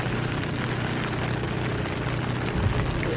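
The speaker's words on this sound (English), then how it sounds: "It's raining out here." Steady, dense patter of rain falling at an RV campsite on Assateague Island, Maryland, a constant hiss close by with no voices.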